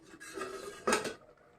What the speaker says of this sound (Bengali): ঢাকাটা আমি খুলে নিচ্ছি।